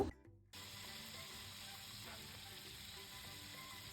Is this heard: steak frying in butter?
yes